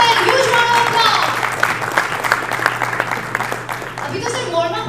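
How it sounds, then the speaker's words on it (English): Audience applauding at a blockchain summit, a dense burst of clapping from a crowd that fades slightly, with a voice over the start and end. "huge round of applause"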